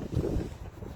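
Wind blowing outdoors on a sunny but breezy afternoon, buffeting the microphone in a low rumbling gust that swells early and then eases, with no talk.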